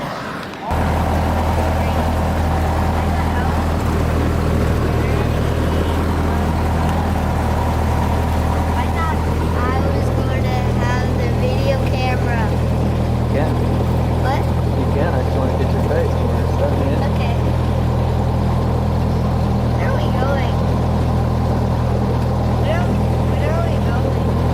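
A small airplane engine warming up before flight, a loud steady droning rumble that runs throughout, with voices talking over it.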